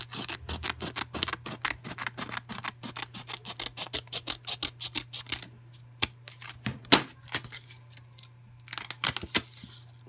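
Scissors snipping along the sealed edge of a paper envelope: a rapid run of crisp, close clicks and cuts, a pause, then a few more sharp snips and rustles, with no one speaking.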